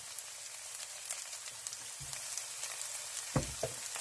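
Shredded potato pancake frying in oil in a pan over lowered heat, a soft continuous crackling sizzle with occasional louder pops, close and with no voices.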